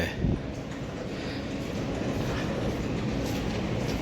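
A steady rumble of a Sydney metro train running along a new line, continuous low-frequency roar with faint rail noise, fairly loud and close throughout.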